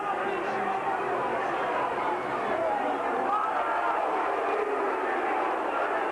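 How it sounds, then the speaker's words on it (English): A football crowd at a Bradford versus Hull match grumbles and jeers unhappily at a refereeing decision, a dense, continuous roar of many voices heard from a distance across the ground. "the Northern crowd not happy with it"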